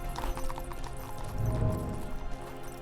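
A horse's hooves clip-clop at a gallop in the video game Shadows over Silesia, joined by a brief neigh, steady and mid-distance over a constant game backdrop.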